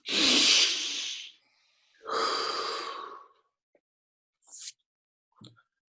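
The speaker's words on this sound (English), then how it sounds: "Let's take a deep breath." Two long, loud breathing sounds, a deep inhale then a slower exhale, close to the mic and separated by a short pause, followed by a couple of faint brief breaths or sniffs.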